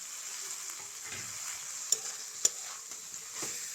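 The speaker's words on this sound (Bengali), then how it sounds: "যে ভাজা আলুটা ওই মশলার সাথে মিশিয়ে দেব" Fried potatoes are stirred into spices in a hot pan, giving a soft, steady sizzle with scraping stir strokes and two sharp clacks of a utensil against the pan, with no voices.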